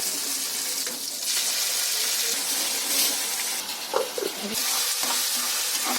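Ground masala added to a pan where cumin is frying, giving a steady hiss and sizzle with some stirring and clinks, close and continuous.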